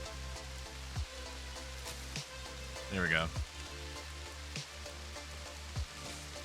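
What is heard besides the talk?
rain falling in the video game Rimworld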